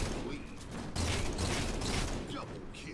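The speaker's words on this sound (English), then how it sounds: "I'm gonna have to shoot through them." Dense, continuous video game gunfire, a loud rattling fusillade that surges after the first second and runs throughout, with a voice talking over parts of it.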